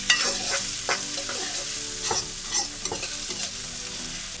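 Chopped onion and finely chopped garlic fry steadily in hot olive oil, a dense sizzle with repeated stirring scrapes in the pan, close and continuous with no voices.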